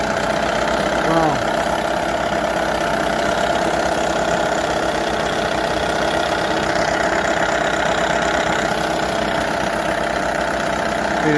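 A 1978 Johnson 6 hp outboard motor runs steadily with a busy, rattling mid-pitched drone and slight knocking, loud and close throughout.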